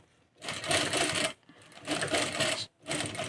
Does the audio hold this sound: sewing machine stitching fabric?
yes